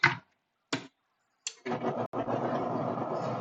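A blender starts up on slow speed with hot soup inside, after a few short clicks and knocks from fitting the lid, then settles into a steady, fairly loud whirring drone that runs to the end.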